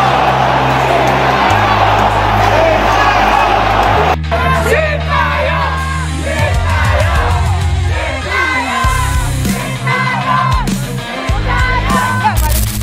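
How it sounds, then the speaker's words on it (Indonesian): Football supporters in a Sydney stadium keep up loud continuous shouting and chanting, a dense crowd roar that swells and rolls throughout without a break. "terdengar teriakan nama Shin Tae-yong yang diteriakan oleh para supporter yang hadir di Sydney Stadium."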